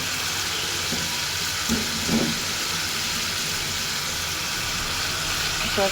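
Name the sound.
pabda fish frying in a pan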